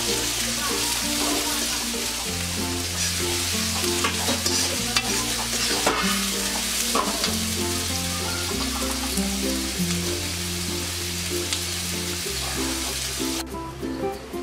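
Sliced onions fry with a pinch of salt in a pan, stirred continuously with a loud, close sizzle and scraping over a faint background tune.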